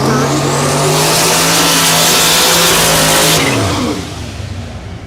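Drag race cars from the faster index classes at Thunder Valley in Noble, Oklahoma roar past at full throttle, a loud sustained engine howl that drops off sharply as they pass and fade away.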